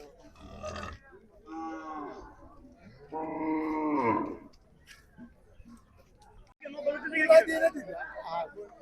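Cattle at a pre-Eid livestock market (haat) give several drawn-out moos and grunts, close and loud, spaced apart with quieter gaps, amid crowd noise and nearby voices.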